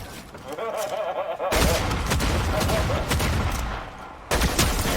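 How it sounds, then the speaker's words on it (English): Shotgun fire in a video game, heard as dense, loud bursts of blasts with an abrupt onset partway through, overlapping in rapid succession, with players talking over the action. "that shotgun looked like it hurt"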